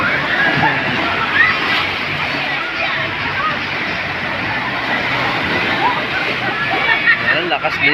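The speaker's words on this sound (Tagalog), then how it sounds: "Ayan, lakas din ng waves." Waves slosh and splash continuously in a resort wave pool, a loud, dense wash of water churning nearby, with a crowd's babble and voices mixed into the roar.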